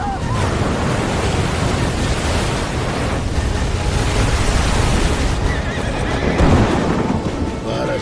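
Several horses neigh and whinny in a rugged rocky outdoor setting, with hooves clip-clopping beneath and a steady wash of wind or surf-like noise running under the whole stretch, one louder whinny rising near the end.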